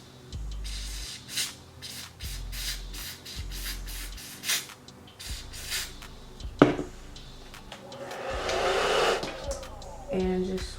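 A blow dryer works over a cinnamon brown deep wave hair install in uneven bursts, mixed with comb scraping, rustling and pressing sounds close by.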